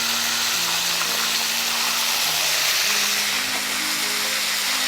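Chicken sizzles in a pan as sour yogurt goes in, a steady, close, bright frying hiss that runs unbroken, with a faint low hum beneath it.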